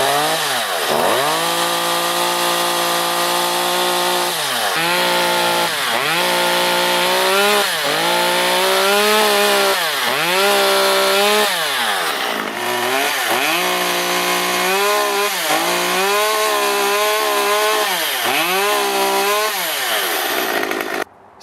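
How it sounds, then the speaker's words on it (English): A chainsaw engine runs loudly and close, revving up and down repeatedly in regular surges without biting into anything, oiling its bar and chain onto cardboard. "I'm going to run the chainsaw again without cutting through wood"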